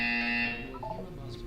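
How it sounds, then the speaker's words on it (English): An electronic buzzer in the video game Portal 2, a loud sustained tone that holds for about half a second before cutting off into a softer trailing voice. "You will hear a buzzer."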